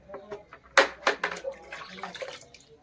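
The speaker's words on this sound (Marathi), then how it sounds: "तर मी आता माझ्या खालच्या झाडांना टाकते पाणी." Water is poured onto potted plants on a lower level, giving a few irregular splashing bursts on leaves and soil, moderately close, with faint background noise between the pours.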